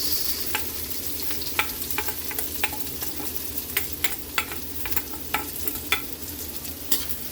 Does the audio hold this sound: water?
no